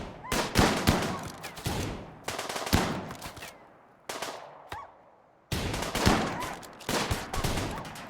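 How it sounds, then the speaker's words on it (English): Rapid bursts of gunfire in the video game RimWorld, dense crackling volleys broken by brief pauses and single cracks, loud and continuous over much of the stretch. "I saw you just shoot your teammate in the back a couple of times."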